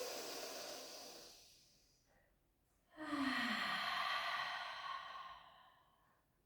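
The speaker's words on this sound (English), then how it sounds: "take a big breath in" A deep, drawn-out breath in during a Pilates class exercise on a mat, close and breathy, following a softer exhale, then slowly trailing off.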